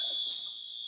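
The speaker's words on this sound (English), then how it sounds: "That's the fire alarm." An apartment fire alarm sounds with a steady, piercing high-pitched tone that holds loud and unbroken through the whole moment.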